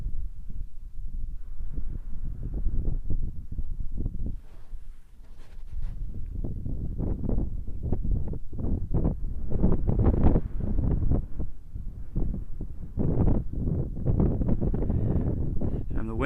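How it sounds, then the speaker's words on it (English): Wind gusts buffet the microphone outdoors in a grassland where zebras graze, a rough, rumbling roar that rises and falls continuously for the whole stretch, with no clear voices over it. "the wind is starting to pick up a little bit now"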